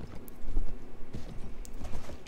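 Horse hooves clip-clopping in the medieval combat game Mount & Blade: Warband, a busy rhythmic patter of steps mixed with dense battle noise, fairly loud and continuous over the short stretch.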